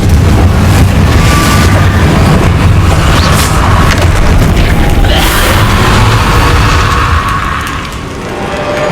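Booming Confringo blasting-spell explosions in the Hogwarts Legacy video game, a loud continuous roar of blasts and rumble with bursts layered densely throughout, tailing off slightly at the end.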